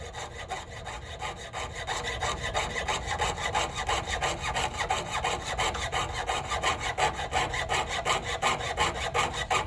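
Saw blade cutting through copper metal, a steady close rhythmic rasp of quick up-and-down strokes with a high whooshing edge, continuous throughout with no talking.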